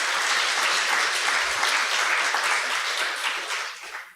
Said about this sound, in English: Can we just give a round of applause for Melissa in this room?